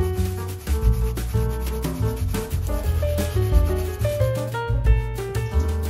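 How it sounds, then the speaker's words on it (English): Fresh ginger is grated against a grater in a continuous close rasping rub under background music. "Grate the ginger."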